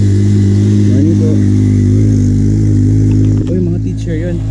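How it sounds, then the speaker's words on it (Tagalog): A motorcycle engine labours loudly up a very steep hill road in Barangay Antipolo, with a strained, droning mid-pitched note held close to the microphone. Brief voices and a clatter come near the end. "Grabe, pati yung motor hirap na hirap umahon dito."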